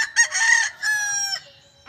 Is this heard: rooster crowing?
yes